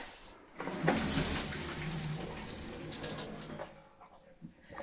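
Pot of cooked pasta being drained into a sink, water gushing and splashing steadily for a few seconds before tapering off, close and moderately loud, with no speech.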